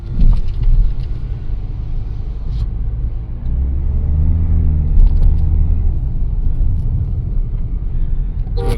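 Mahindra XUV700 on a test drive, heard from inside as a steady low engine and road rumble with a slight swell in revving midway, continuous and fairly loud throughout.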